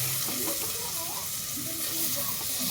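Soybean chunks frying in onion masala, a close, steady sizzle and hiss with faint stirring scrapes throughout.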